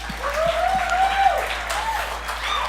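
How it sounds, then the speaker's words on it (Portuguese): Audience applause at a Christian worship service, a steady wash of clapping that rises and then holds under a sustained tone, with no talk over it. "Dá uma salva de palmas aí pra galera."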